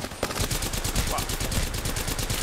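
Rapid automatic gunfire in the Apex Legends video game, a dense rattling stream of shots fired nonstop for the whole stretch, loud and close, with game sounds layered underneath.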